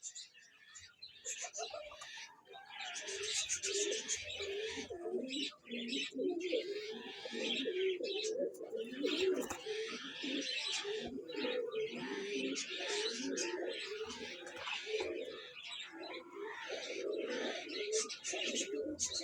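Parwazi flying pigeons at a pigeon club in Chishtian coo in soft, repeated throaty phrases with scattered chirps, a faint rooster-like call and background voices nearby.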